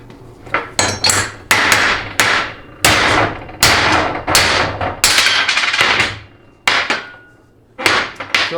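Hammer blows drive a bushing into a 4L60E/700R4/TH350 2WD transmission extension housing, landing as loud, close metallic strikes in an uneven series of about a dozen, with short pauses between some hits.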